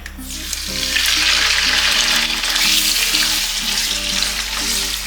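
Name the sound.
mutton liver frying in oil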